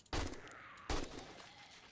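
Two distinct rifle shots from an AK in the survival game 7 Days to Die, each a sharp crack with a short ringing tail, spaced under a second apart and fairly faint overall.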